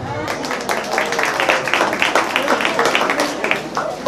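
A crowd at a school political skit claps for a mayoral candidate of southern Magdalena, a dense, steady burst of hand clapping throughout.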